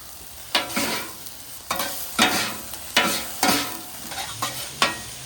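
Garlic sizzles on a flat-top griddle for a ramen and pork stir fry, with a spatula scraping and stirring in about eight sharp, rhythmic strokes over a constant close frying hiss.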